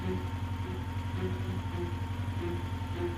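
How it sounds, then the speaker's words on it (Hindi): A tractor engine running rough and pouring black smoke gives a faint, steady, low chugging drone with a faintly uneven throb, continuous and alone. "ट्रैक्टर की आवाज एकदम से बदल गई और ट्रैक्टर बहुत ज्यादा मात्रा में काला धुआं छोड़ने लगा"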